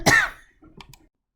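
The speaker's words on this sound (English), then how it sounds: "I'm going to have to cough." A single sharp cough, close and loud, followed by a brief throat-clearing rasp and a couple of faint rustles before quiet.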